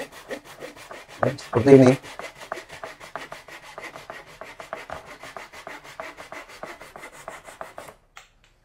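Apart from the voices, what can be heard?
Japanese handsaw cutting PVC board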